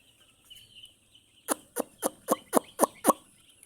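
Chickens on a poultry farm with many chicks, a run of seven short, evenly spaced clucks, close and fairly loud, after a faint quiet stretch.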